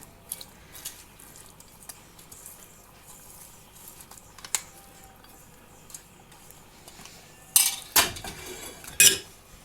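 A spoon stirs zucchini salad with tomato, fried onion, carrot and mushrooms in a pot, with soft scraping and clinks. Louder metallic clatters come near the end, and there is no talk.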